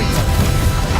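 A Confringo fire blast spell from Hogwarts Legacy roars as one loud, dense burst of crackling noise that fills the whole moment without a break.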